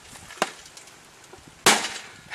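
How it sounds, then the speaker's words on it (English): A brass punch tool strikes the side of a glass pane twice, each hit a sharp, loud crack, the second harder and followed by a short ringing, splintering tail. "I'll hammer one of the sides real quick"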